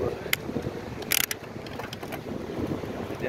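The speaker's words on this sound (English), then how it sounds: "Right now I'm running into some stiff wind coming out east." Stiff east wind buffets the microphone during beach bicycling, a continuous rough rushing roar with a few brief sharper gusts, close and loud, no talking.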